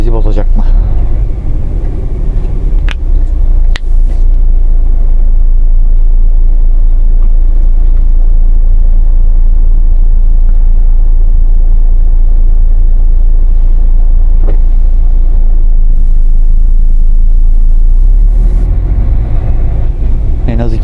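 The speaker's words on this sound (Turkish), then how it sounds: "Bu trafik bakalım bizi bozacak mı?" City road traffic in Bursa, Turkey, heard from inside a vehicle: a loud, continuous low engine rumble and road noise with passing cars, occasional brief knocks, and people talking over it.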